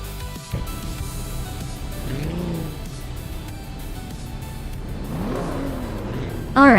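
A 1959 Maserati 3500 GT engine in a racing video game, revving up through rising and falling pitch sweeps at moderate loudness, with a sharp squeal right at the end.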